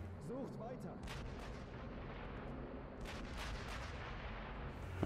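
Gunfire in the Sniper Elite V2 video game: a dense, continuous rumble of distant shots and blasts, fairly faint, with no clear single report standing out.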